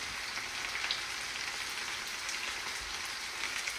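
An okra and potato patty fries in a pan, putting out a steady, even sizzle like light rain that stays close and constant, with no talking over it.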